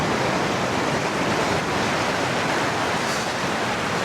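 Ocean surf washes in steadily on a beach at Tofino, Canada, a loud, unbroken roar of breaking waves with no voices.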